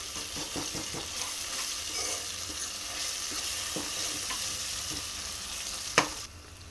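Chopped onions and ginger-garlic paste frying in a pan for a ridge gourd mutton curry, with a steady close sizzle under intermittent stirring scrapes and a sharp metallic clink near the end.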